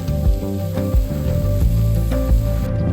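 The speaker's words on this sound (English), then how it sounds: "for dinner though, I am having some steak and some veggies." Steak and vegetables sizzle and fry steadily in a pan, a loud close hiss with small pops and crackles throughout.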